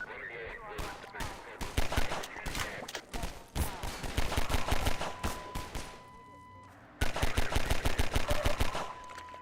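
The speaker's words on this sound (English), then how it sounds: "You can shoot very rapidly, which I like." Rapid gunfire in the video game Half-Life 2, long bursts of fast, sharp shots in dense rhythmic volleys, loud and close, with a brief lull before a final burst.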